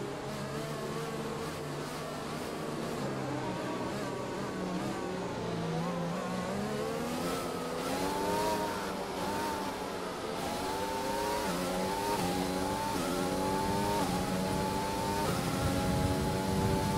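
F1 2020 race cars accelerate as a field behind the safety car, engines rising and falling in overlapping high-pitched revving whines, several cars close together and loud, with gear shifts audible as the pitch repeatedly climbs.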